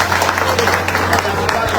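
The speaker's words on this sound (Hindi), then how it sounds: "जोरदार ताली बजे के" A crowd claps briefly at a public address by an education minister, the dense patter of hands mixed with a speaking voice and a low electrical hum.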